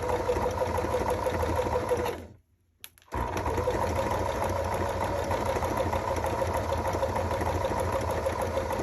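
A sewing machine runs a zigzag stitch along ribbon, making a steady, fairly loud mechanical whirr with a rapid even rhythm. It cuts out for about a second, then resumes at the same pace, with no talking.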